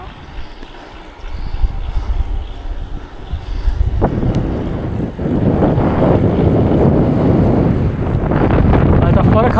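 Strong wind buffeting the microphone while cycling outdoors, a heavy continuous roar that swells and stays loud, with people talking beneath it.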